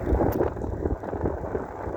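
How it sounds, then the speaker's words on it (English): Wind buffets the microphone while riding an electric bike at low speed, a gusty low roar that swells and fades irregularly, close and fairly loud, with no voices. "Really windy."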